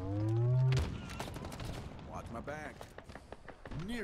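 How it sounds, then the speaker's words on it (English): Bursts of pulse-rifle fire in Halo Infinite gameplay, rapid clustered shots crackling through a busy firefight, with a low booming hit at the start and game voices and effects layered over the shooting. "I think it is a burst weapon. And it's something like pulse rifle or something."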